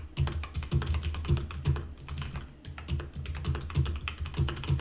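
Rapid typing on a HyperX Alloy Origins Core mechanical keyboard, with dense, close, clacky keystrokes in quick irregular bursts and no talking.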